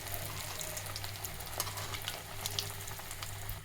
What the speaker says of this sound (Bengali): তাই আমি এখন তেলটা গরম হয়ে গেছে, তাই একটি একটি করে দুই পিস করে আমি ভেজে নিব অল্প অল্প জালে